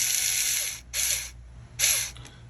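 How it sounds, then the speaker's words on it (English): An electric driver runs screws into an RC transmission case with a slipper eliminator plate, giving three short whirring bursts of under half a second each with a pitch rise as each screw seats, close up and with no talk. "Just tight enough with the electric driver, but not too crazy tight"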